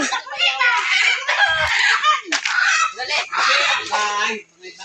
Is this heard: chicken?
yes